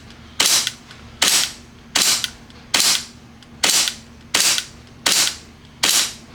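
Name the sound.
airsoft gun firing a string of shots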